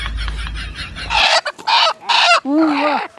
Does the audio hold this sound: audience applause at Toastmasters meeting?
no